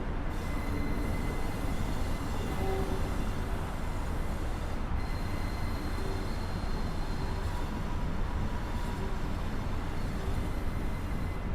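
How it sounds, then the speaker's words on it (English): A passenger train in the Train Simulator 2016 game rolls steadily into a platform on the Norwich to Great Yarmouth via Reedham route, its constant wheel and track rumble joined by faint squeals and tones as it gently brakes. "I'm going to just gradually start braking as we enter the platform, so that we couple up to the train ahead very gently."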